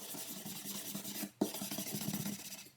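Steel brush scraping back and forth across wood to texture it for a DIY dog bed, close and continuous rough rasping strokes with one brief pause midway.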